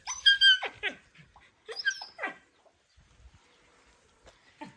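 Laika puppies give high-pitched yelps and squeaky whines in two short bursts outdoors, then quieter scattered whimpers, close up with no talking.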